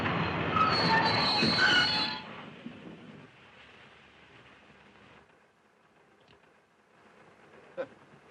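A 1930s steam-era passenger train rumbles along the rails, loud at first and then fading to a distant low roll, with a faint squeal near the end.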